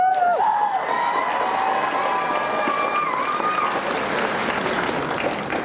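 A convention crowd greets a costume designer and cosplayer with dense, steady applause and a few whoops and cheers that stay loud for several seconds before easing slightly.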